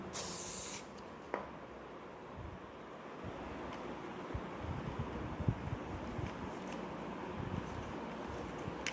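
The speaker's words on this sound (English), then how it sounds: "So now apply more disinfectant." A short, loud hiss of disinfectant spray on a model Concorde aircraft, followed by quiet handling rustles and faint background noise.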